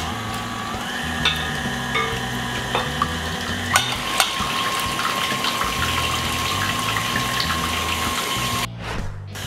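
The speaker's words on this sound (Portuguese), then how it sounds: "já vou adicionar a clara de ovo e na sequência já vou ligar a batedeira e vou deixar por 10 minutos" An electric stand mixer whirs steadily, beating egg whites for a Brazilian Maria Mole marshmallow dessert, its motor hum constant with faint whisking and occasional light knocks until it cuts off near the end.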